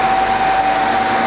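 Spindle of a Leadwell MCV-1500BR CNC vertical machining centre with Mitsubishi Meldas M3 control spinning up toward 4,000 RPM, a steady close whine with one sustained pure tone over broad airy machine hiss, no voices.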